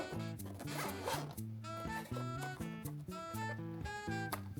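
Zipper drawn along a small cloth case for a NUX B-6 Pro clip-on microphone, several quick close rasping pulls in a stop-start rhythm, loud and alone.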